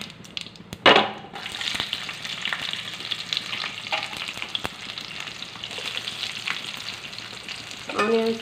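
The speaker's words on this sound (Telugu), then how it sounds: "తాలింపు వేగింది. ఆనియన్స్ వేసుకుందాం." Onions dropped into hot tempering oil for mango dal hiss and crackle in a steady sizzle, with a loud splash of frying at the start and occasional stirring scrapes, close and continuous.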